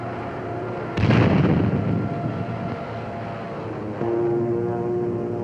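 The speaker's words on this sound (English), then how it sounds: "The airfield and dispersal areas at Forbara, just north of Rome, are bombed and strafed by A-36s on April 14th." A-36 Apache dive bombers strike an airfield north of Rome in 1944, a sudden heavy blast followed by a rumbling roar that fades, then a second, steadier surge of engine drone.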